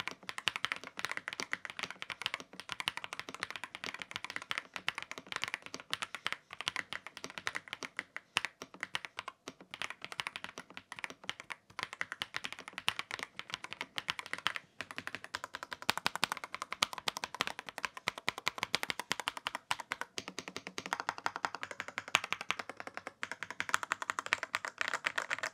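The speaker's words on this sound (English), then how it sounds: "Okay, let's do the sound test, and you will hear why I'm so impressed of this keyboard." Typing on an AULA F87 TKL mechanical keyboard produces a rapid, continuous patter of crisp, close key clicks and taps, with uneven bursts and short gaps and no talking.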